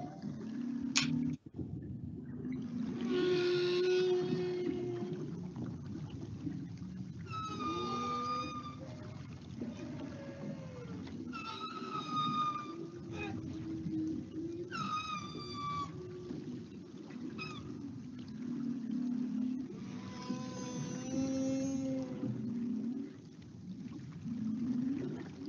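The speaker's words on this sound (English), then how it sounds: "The most famous one perhaps is the sound of the humpback whale. And here are some examples I recorded in Hawaii in 2018." Male humpback whales sing underwater off Hawaii: a long series of moaning, wavering tonal calls and rising whoops. The phrases repeat one after another over a steady low background rumble, fairly faint and distant.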